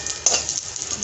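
Garlic frying in hot oil for upma, a steady crackling sizzle with a brief louder pop near the start, close and continuous, with no voices over it.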